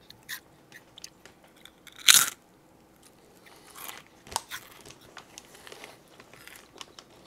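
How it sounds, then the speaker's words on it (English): Original-flavor Bugles corn snacks and cheese balls are crunched close to the mic, with a sharp loud bite followed by scattered chewing crunches and faint bag rustles. "really good crunch characteristic on these bugles"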